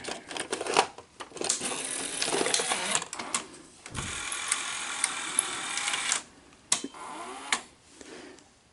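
A Beta-format NEC Super Beta HiFi VC-N65EU VCR threading a cassette tape around its drum, giving close, busy mechanical whirring, clicking and ticking in uneven bursts broken by brief pauses.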